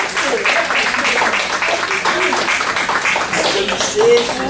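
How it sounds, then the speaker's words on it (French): An audience at an award ceremony applauds with steady, fairly close clapping, while a voice talks over the hands. "Applaudissez Suzanne Tenant"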